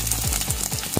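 Onions frying in hot oil with split dried chilli, bay leaf and fenugreek seeds sizzle steadily while a spoon stirs them in a few quick scraping strokes, close and fairly quiet.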